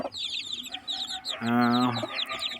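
Injured hen among other chickens, high chick peeps and clucks, then a louder drawn-out harmonic squawk near the middle, close up with no talk.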